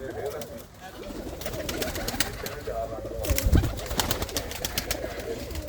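Pigeons coo in a loft, a steady low murmur of overlapping calls running throughout, with a louder burst of activity near the middle; a voice talks over them at times.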